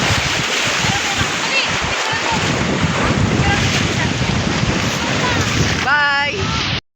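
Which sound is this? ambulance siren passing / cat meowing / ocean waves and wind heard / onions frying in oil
ocean waves and wind heard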